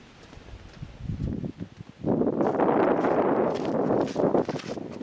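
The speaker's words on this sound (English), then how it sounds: "what you hear there is the creek roaring" Loud, steady rushing of a creek roars close by outdoors after a quieter, rustling start, with wind buffeting the microphone.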